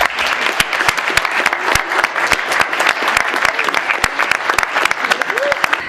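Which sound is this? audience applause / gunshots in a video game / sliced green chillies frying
audience applause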